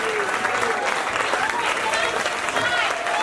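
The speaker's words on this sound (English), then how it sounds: "Give them a round of applause" Audience applause at the close of the One Night Stand 2024 show, a dense, steady wash of clapping and cheering that fills the whole stretch, with voices and a few whoops mixed in.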